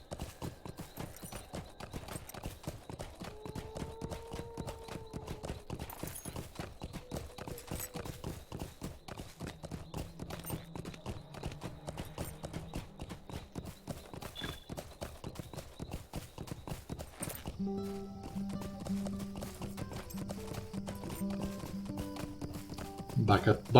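Steady, rapid hoofbeats of a galloping horse in the Lord of the Rings Online video game run continuously, a rhythmic clip-clop at moderate level with occasional game tones layered over it.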